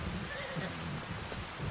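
Horses at a barn in Farming Simulator 25, with a faint whinny amid a steady, noisy background hiss.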